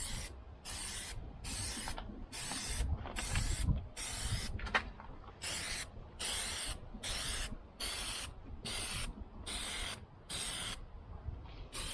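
Repeated short hissing bursts of Plasti Dip spray coating a Tesla Model 3 badge and lettering, about a dozen evenly spaced pulses with brief gaps, close and steady, no talking.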